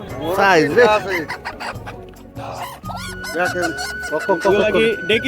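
Chickens cluck and squawk close by, repeatedly, mixed with people talking over the noise of a busy market.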